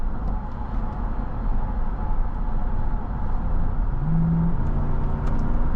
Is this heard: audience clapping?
no